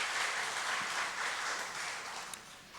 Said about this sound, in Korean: 여러분 박수로 환영해 주시면 감사하겠습니다.